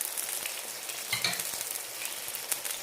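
Egg and tomato mixture poured into a hot pan, giving a steady bright sizzle and crackle of frying at close range, with a few soft clinks of stirring and no voices.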